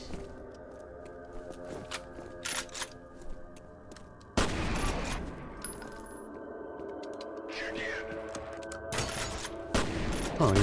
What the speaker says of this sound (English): That's how you use grenades.